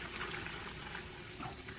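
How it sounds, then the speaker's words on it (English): Wine trickles gently as it is poured into a big sanitized bowl, leaving the sediment behind; a soft, steady liquid pour, fairly faint and continuous, with no talking. "I'm just gonna kind of gently pour the wine into a big bowl that's been sanitized"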